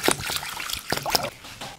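Egyptian rice rinsed by hand in water for sushi makes short close trickles and splashes, with a few quick sloshing movements over a couple of seconds.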